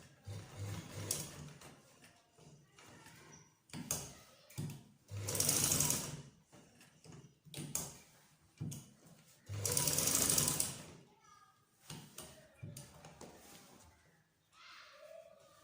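A sewing machine stitches cutwork and appliqué trim on shalwar cuffs in bursts of steady mechanical whirring, starting and stopping repeatedly, with quiet handling noises between runs.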